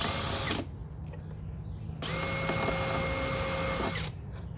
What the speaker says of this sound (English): I'm going to drill a pilot hole here.